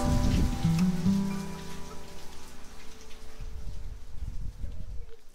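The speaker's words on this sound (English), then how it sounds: "The bartender was looking all around for a leak." Rain patters steadily as a dense hiss of drops, with a few low tonal sounds early on and louder splashy bursts near the end.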